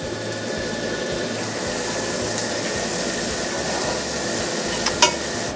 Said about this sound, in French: Du beurre, une poêle. On met nos échalotes dedans.